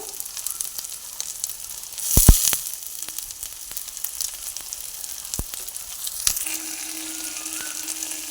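Slit green chillies and ginger paste hit hot oil in a pan for a prawn and jackfruit dish, a close crackling sizzle with sharp spatters and a louder burst as ingredients drop in, then steady frying with a faint tone.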